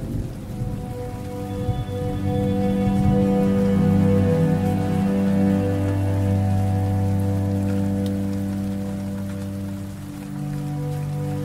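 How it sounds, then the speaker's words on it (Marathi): Rain falls in a strong, steady wash with a deep, sustained rumble like thunder beneath it, loud and continuous with no voices. "आणि पाऊस पडू लागला."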